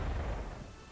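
Gunfire and explosion effects from units firing in the WWII strategy game Panzer Corps, a loud, dense booming burst that fades slightly over a second, with no talk over it.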